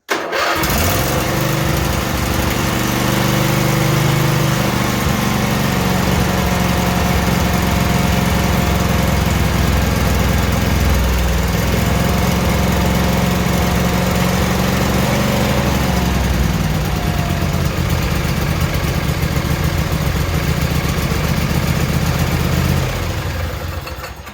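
Briggs and Stratton twin-cylinder engine on a Craftsman riding mower runs loud and steady close up for the whole stretch, a continuous throbbing drone with slight shifts in pitch and no talk over it.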